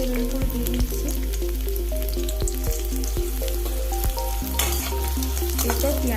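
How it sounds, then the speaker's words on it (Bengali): Garlic frying in three spoonfuls of hot white oil while cooking chilli pasta, a steady close sizzle with occasional utensil clicks and stirring, turning louder and crackling near the end. "রসুনটাকে তেলের উপরে দিয়ে দিচ্ছি।"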